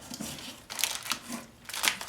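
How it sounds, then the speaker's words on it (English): Scissors are picked up and handled while a treat bag is being tied with a bow, giving a few short crinkly rustles and clicks in separate bursts, close and fairly quiet. "I'm going to grab my scissors."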